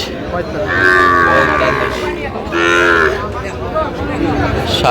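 Cattle moo loudly and close by, two long drawn-out calls with a shorter one near the end, over a busy crowd murmur, at a cattle market in Narayanganj, Bangladesh, selling Sahiwal bull calves.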